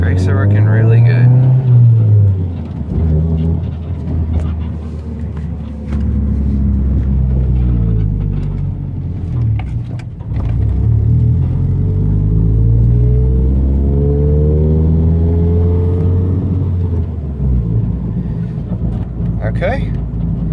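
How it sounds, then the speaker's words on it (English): A bagged Honda Civic's engine rumbles loudly from inside the cabin during a brake test, dropping as the car slows hard midway and then building again, with people talking over it. "let's do a little brake test"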